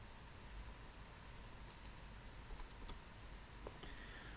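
Light clicking of keys on a computer keyboard, a quiet scattered run of individual taps with short pauses between them, faint against a low room hiss and no voices.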